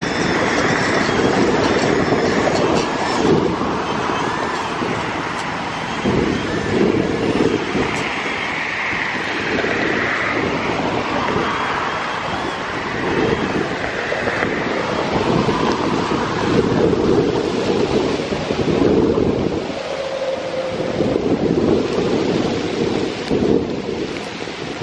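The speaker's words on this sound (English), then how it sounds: "the rain is really pouring" Heavy rain pours down steadily outdoors during a sidewalk edging job, a loud continuous broadband roar with low rumbling gusts throughout and no talking.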